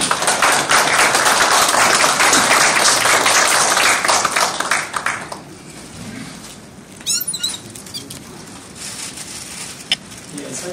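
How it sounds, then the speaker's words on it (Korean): An audience at a formal Korean award ceremony claps loudly and steadily for about five seconds to welcome a speaker, then the applause stops abruptly, leaving a quiet room with a few faint scattered noises. "뜨거운 박수로 모시겠습니다."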